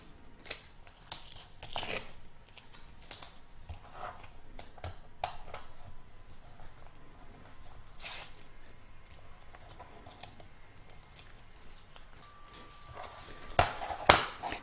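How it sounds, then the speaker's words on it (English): Tape is peeled off an embroidery hoop in short, quiet crackling tugs and scratchy rips, scattered and close, with a louder tearing burst near the end. "I'm just going to start off by removing the tape first"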